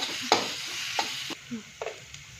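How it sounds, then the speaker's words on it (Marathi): A coarse ground spice paste fries in hot oil in a pan as a sizzle, broken by several distinct scraping stirs of a spatula, close and fairly loud. "आता ही फोडणी आपल्याला छान परतून घ्यायची 1-2 मिनिट।"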